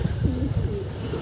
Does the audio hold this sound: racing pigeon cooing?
yes